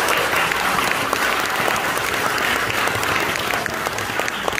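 Adults in a gallery audience clap for participating students at an art museum event, a full, even roar of applause continuing at steady strength throughout with no talk over it.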